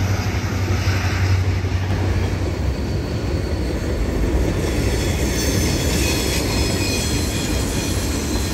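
A Union Pacific freight train rolls past steadily and loud on a mountain line in the Cascades, with a continuous roar of wheels and faint squealing throughout.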